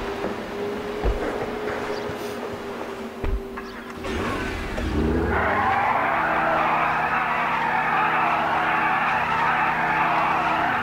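A T20 supercar in the video game GTA 5 revving and skidding, engine noise rising into a long sustained tire squeal that stays loud and steady to the end.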